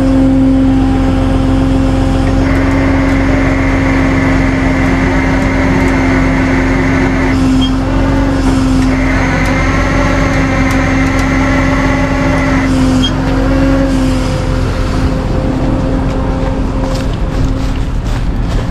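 An RV engine labors as it accelerates uphill on a rough off-road trail, a loud steady drone with a rising higher-pitched whine in two long stretches, close and constant throughout.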